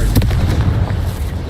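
Confringo fire blast spell cast in Hogwarts Legacy, a loud booming burst with a sharp crack at the start and a rumbling low tail, no talking.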